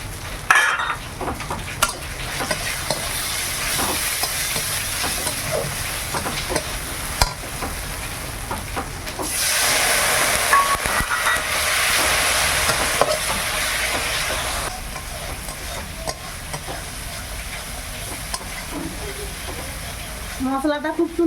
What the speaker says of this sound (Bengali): মশলাটা খুব সুন্দর ভাজা হয়ে গেছে